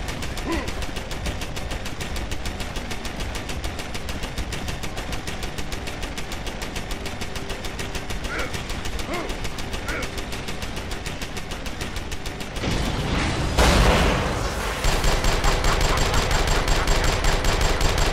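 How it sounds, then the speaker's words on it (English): Sustained rapid machine-gun fire in Deus Ex: Human Revolution, loud and continuous, the bursts shifting and thickening toward the end with heavier impacts. "Gunshots! Nearing source of disturbance."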